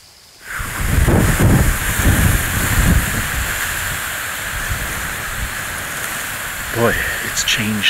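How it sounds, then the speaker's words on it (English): A strong northeast wind blows across open public land in Nebraska during a deer hunt, a loud steady rushing hiss buffeting close by, with someone talking over it at the start and again near the end. "the wind picked up. It's coming up more out of the north. It's kind of a northeast wind."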